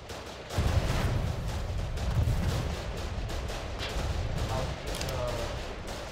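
Sustained gunfire and fusillade from a trench fight in the video game Foxhole, a dense, continuous barrage of shots with heavy low rumble running throughout, with players talking over it.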